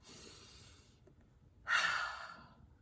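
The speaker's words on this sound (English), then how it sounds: "Take a nice big deep breath." A single slow, deep breath is drawn and released, soft and close, with a gentle breathy exhale after a quiet pause, in a calm indoor setting with no talking.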